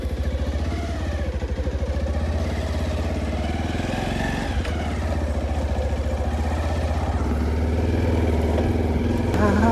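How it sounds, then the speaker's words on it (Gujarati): A motorcycle that had run out of petrol idles steadily after being restarted, its engine putting out an even, close, rumbling chug for the whole stretch with no revving. "ફાઇનલી બાઇક ચાલુ થઈ ગઈ"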